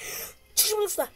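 A player sneezes once, sharp and close, during a Roblox game session. Casual talk comes just before and after it.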